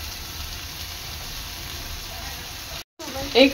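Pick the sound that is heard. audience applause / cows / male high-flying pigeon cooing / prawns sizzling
prawns sizzling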